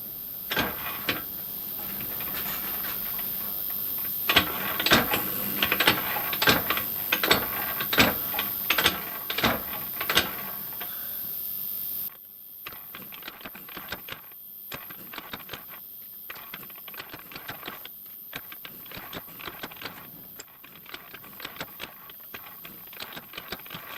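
A compact mechanical hobby hacksaw runs repeated passes through a cut, giving a rhythmic series of sharp rasping strokes, loud at first and then softer and thinner over a steady mechanical hum.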